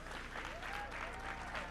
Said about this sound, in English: a thunderous round of applause for Kane